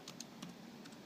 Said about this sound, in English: I'm terrible at typing with one hand